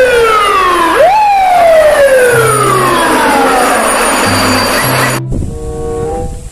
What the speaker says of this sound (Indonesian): di sini juga ada mobil pemadam kebakaran